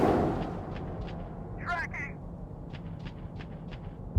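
A tank gun fires in the PC game Gunner HEAT PC, with a deep boom at the start that rumbles away, a brief voice in the middle and another low thump at the very end.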